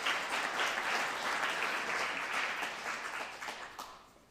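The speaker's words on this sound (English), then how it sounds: "Please give them a round of applause" An audience at a talk on cover crops and soil health claps steadily for the speakers, a dense and fairly soft round of applause that holds evenly and then tapers off toward the end.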